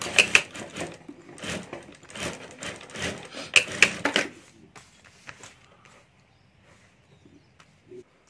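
A sewing machine stitching a ladies' wallet, running in quick rattling bursts for about four seconds, then stopping, leaving only faint handling noises.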